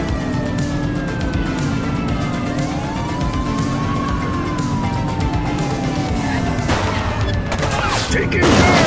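Gunfire from a fleeing suspect during a police chase in a video game, with sirens wailing and car engines droning steadily underneath; a louder burst of shots or impacts lands near the end.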